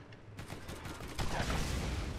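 Gunfire in the video game Borderlands crackles as a quiet, dense burst of rapid shots, growing louder partway through and continuing without a break.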